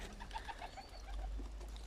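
Soft, low cooing of young pigeons in a breeding loft repeats in a short burst against a quiet background hum.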